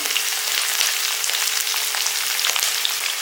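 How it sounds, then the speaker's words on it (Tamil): Small onions, dried chillies and a handful of curry leaves sauté in hot oil in a pan for a Tamil kuzhambu, giving a steady, close crackling sizzle with a few light stirring taps and no voices. "கைப்பிடி அளவு கருவேப்பிலை எல்லாமே சேர்ந்து நல்லா வதங்கட்டும்"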